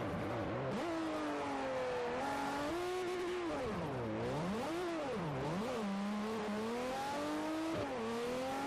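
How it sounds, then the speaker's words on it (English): Engine of a pre-1975 car in the racing video game Forza 4, repeatedly revving up hard against the rev limiter, pitch rising and bouncing with gear changes and brief drops, loud and continuous with no talk. "I keep hitting the rev limit there."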